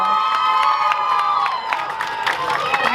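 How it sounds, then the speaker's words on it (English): An audience at a student election debate applauds and cheers, with whoops and shouted voices over the clapping. The crowd is loud and close and keeps up the noise throughout the few seconds. "a big round of applause for our moderator today, Crystal."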